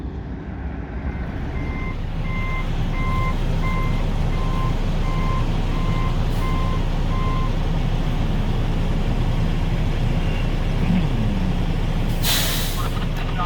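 A steady low rumble of heavy engines and trucks at an oil pipeline leak cleanup site, with repeated reversing beeps in the middle and a sharp hiss of air brakes near the end.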